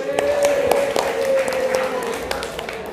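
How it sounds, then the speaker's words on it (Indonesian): A classroom of students claps for the top-scoring group, a modest, fairly thin patter of hands with some sharp individual claps standing out, while a voice carries on underneath throughout. "Tepuk tangan untuk kelompoknya Mas Evan."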